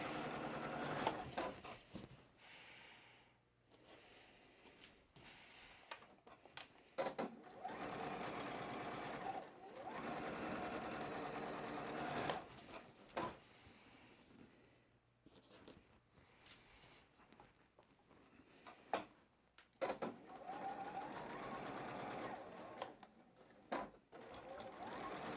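A sewing machine chain-pieces quilt units one after another, its stitching buzz running in short bursts and pauses, quiet and close, with a person talking over parts of it.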